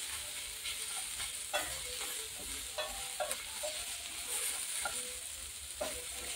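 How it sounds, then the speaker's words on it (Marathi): Onion, tomato, coriander, garlic, ginger and two green chillies frying in a pan for mutton curry, a dense continuous sizzle with frequent spatula stirring scrapes, close and even. "आपल्याला कांदा, टोमॅटो, कोथिंबीर, लसूण, अद्रक आणि 2 हिरव्या मिरच्या असं आपल्याला फ्राय करून घ्यायचं आहे छान असं"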